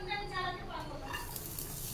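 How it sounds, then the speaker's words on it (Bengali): Onion and capsicum sizzle in a hot pan as they start to fry, a soft steady hiss close by with faint stirring, and a voice speaking over it. "এই যে পেঁয়াজ আর ক্যাপসিকাম দিয়ে দিচ্ছি"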